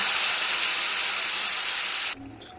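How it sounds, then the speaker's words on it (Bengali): Spice paste frying in a pan with a little water added for a Bengali fish curry gives a steady loud sizzling hiss that stops abruptly near the end, leaving quieter background. "অল্প জল দিয়ে মশলাটাকে কষিয়ে নেব"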